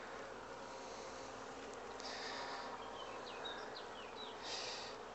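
Honey bees buzz around hives housing rescued swarms at an apiary, a steady, dense outdoor drone with individual bees passing close now and then.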